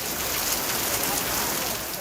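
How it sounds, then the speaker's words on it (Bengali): Torrential monsoon downpour in Barguna, Bangladesh, a dense, steady hiss of rain pouring down without pause, close and even throughout. "বরগুনায় সকাল থেকেই চলছে মুষলধারে বৃষ্টি।"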